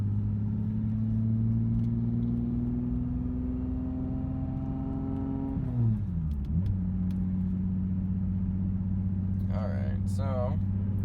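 Nissan 350Z with a rear-mount turbo idling and creeping through a turnaround, a steady low engine drone with a brief dip and pitch shift mid-way, close and continuous, with a voice talking briefly near the end.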